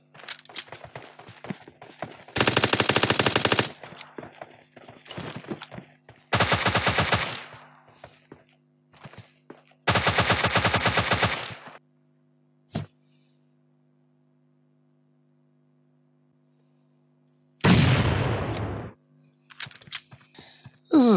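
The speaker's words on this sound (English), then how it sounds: "I do like this gun." Gunfire in the mobile game PUBG Mobile, several loud bursts of rapid automatic fire separated by near-silent gaps and scattered single shots, with footstep-like clicks between bursts.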